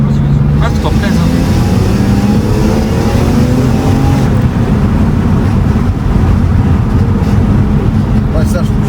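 BMW E30 M accelerating hard from inside the car: a loud, steady engine roar climbing in pitch throughout, with gear-driven tones rising, under occasional talk from the occupants.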